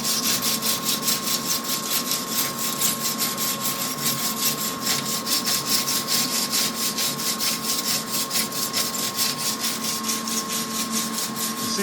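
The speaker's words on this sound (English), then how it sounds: "Scratching it with this 30-year-old wire brush seems very fussy." A 30-year-old wire brush scratches back and forth over 1957 Chevy side trim in a fast, even, continuous rasping rhythm, close and fairly loud, with a faint steady tone underneath.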